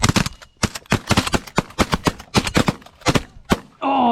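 Rapid volley of shotgun blasts during a pigeon hunt, a dozen or so loud sharp reports in quick irregular succession, with a brief burst of different noise at the end.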